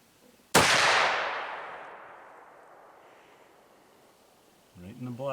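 A single rifle shot fired at a target during deer season cracks loudly and close, its boom rolling out in a long fading echo over several seconds before voices begin talking.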